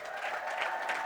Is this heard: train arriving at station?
no